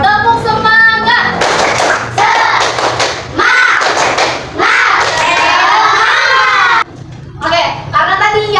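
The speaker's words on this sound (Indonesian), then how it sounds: "Sekarang coba ibu mau tepuk semangat dulu." Schoolchildren in an Indonesian fifth-grade classroom perform a rhythmic clapping cheer, loud patterned claps mixed with shouting and chanting voices, with a teacher's voice and brief pauses between bursts.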